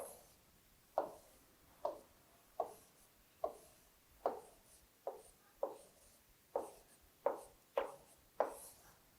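Pen strokes on paper as a number is written by hand, a series of about twelve short, quiet, crisp scratches in an even rhythm, close by with no talk.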